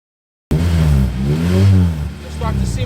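A car engine revving in first gear while preloading the rear under braking, a steady loud low drone that swells and holds, with someone talking over it.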